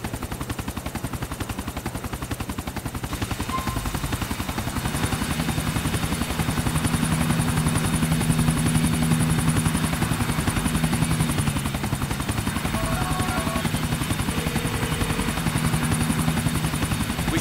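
A helicopter flies steadily in GTA IV, its rotor thrum loud and continuous throughout, with scattered game sound effects and no speech.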